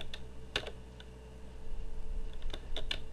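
Keys on a computer keyboard, the WASD movement keys, tapped to steer through a maze in a browser game editor: a few sharp, close clicks in small clusters, with quiet gaps between them.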